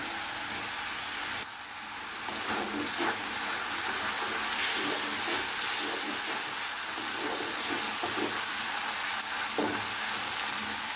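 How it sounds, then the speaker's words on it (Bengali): Masala spice paste for pangas fish sizzles and fries in hot oil, a loud continuous crackle and hiss with occasional stirring scrapes, with no talking. "মশলাটা আমার কষানো হয়ে গেছে, মশলা থেকে একটা তেল বের হয়ে এসেছে"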